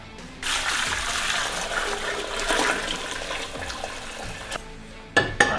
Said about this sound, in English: So maybe I should just drain off the top of this water.